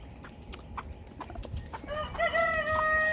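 A rooster crows loudly and close by, its harmonic call rising and holding near the end, after scattered clucks and sharp barnyard calls from turkeys, ducks, geese and chickens.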